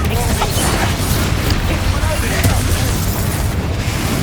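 A Reductor spell blast in the Hogwarts Legacy video game makes a loud, dense rumbling explosion that fills the whole moment, with a voice speaking over it.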